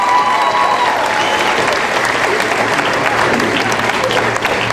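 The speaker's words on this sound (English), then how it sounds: "I think we need to give Dr. Herman a round of applause" Sustained applause from a large audience at an eighth-grade promotion ceremony, steady and dense for the whole stretch, with a faint tone and a voice briefly underneath at the start.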